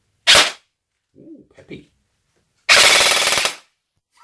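An MP5 airsoft replica on an 11.1 battery fires full auto at upwards of 21 rounds per second. A loud short burst is followed by a longer, dense burst of about a second, with brief speech in the gap between them.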